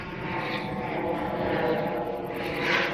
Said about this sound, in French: Je vais juste laisser passer l'hélicoptère.